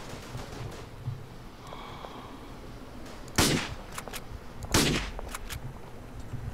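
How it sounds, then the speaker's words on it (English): Gunfire in the World War I shooter Verdun: two loud, sharp shots a second or so apart, each trailing a short echo, over a faint background of distant battle noise. "This man is shooting at me, I think."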